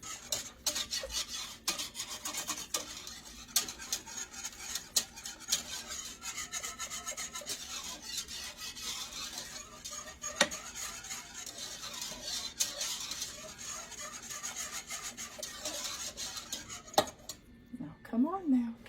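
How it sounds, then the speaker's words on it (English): A whisk scrapes and clatters rapidly against a pot while a sweet potato dumpling mixture thickens, a continuous busy metallic rhythm close up with brief voice near the end. "we're going to whisk that in"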